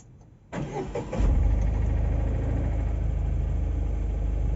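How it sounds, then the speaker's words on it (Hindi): A Tata Ace Gold CX petrol engine cranks briefly and catches, then settles into a steady, even idle close by. No one speaks. "बहुत साइलेंट इंजन है, किसी प्रकार की कोई वाइब्रेशन आपको देखने को नहीं मिलती है।"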